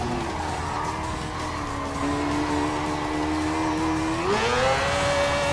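Gran Turismo Sport race cars, including an LMP1 prototype, drone with a loud engine whine that climbs steadily and then jumps higher near the end, with tire squeal mixed in and no talking.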